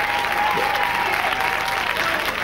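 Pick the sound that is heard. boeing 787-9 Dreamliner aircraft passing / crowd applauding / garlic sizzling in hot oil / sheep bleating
crowd applauding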